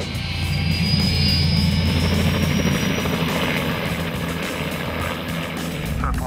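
A helicopter drones continuously and loudly over a landslide debris flow, its rotor throbbing with a steady whine overhead, without any speech.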